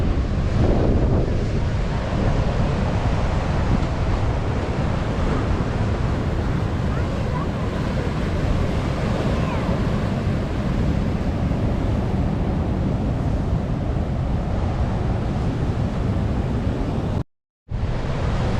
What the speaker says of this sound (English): Water was hitting the sea walls.